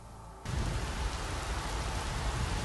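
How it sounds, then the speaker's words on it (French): Steady rain at night, a dense wash of pattering that starts abruptly and continues evenly, close and moderately quiet, with no voices. "à travers le crépitement de la pluie nocturne"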